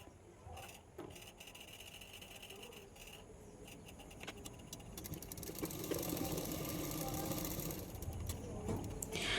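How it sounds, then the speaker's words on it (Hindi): Sewing machine stitching side seams of a heavy embroidered blouse for fitting, a steady rapid mechanical whir and clatter running continuously and growing slightly louder, close up with no talking. "उसके बाद में फिटिंग के लिए सिलाई कर रही हूँ"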